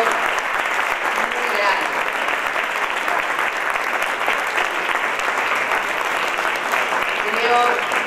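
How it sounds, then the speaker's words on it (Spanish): A panel audience on human rights education applauds an award-winning coordinator, sustained, dense clapping from a large room, with a voice speaking briefly over it. "Así que un aplauso"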